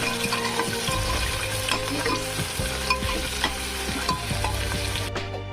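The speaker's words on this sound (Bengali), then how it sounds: "এদিকে পেঁয়াজ রসুন ভাজা হয়ে গেছে" Onion and garlic fry in mustard oil with bay leaves in a pan, a steady crackling sizzle broken by repeated scraping stirs, close and continuous throughout.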